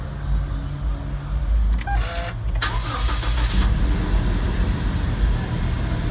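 A Toyota Land Cruiser Prado 150's 2.7-liter engine cranks via push-button ignition and catches with a brief whirring burst, then settles into a low, steady idle rumble close by.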